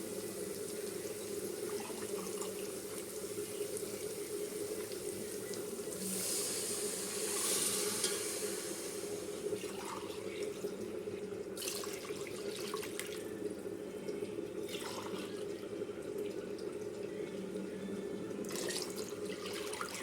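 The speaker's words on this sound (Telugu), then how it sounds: "ఇప్పుడైతే ఫస్ట్ కొబ్బరి పాలు పోస్తున్నానండి." Coconut milk pours steadily into a cooking pot while making coconut milk pulao, a continuous close liquid stream with a few brief splashy bursts and no talk.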